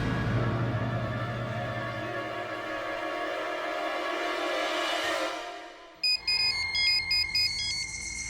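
Phone ringtone in a Hindi TV drama scene, a bright repeating electronic melody that begins suddenly after a swelling musical passage fades out.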